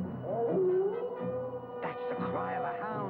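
Drawn-out, wavering animal howl like a hound's cry on a moor, rising and falling in several long calls, fairly loud and alone with no talk.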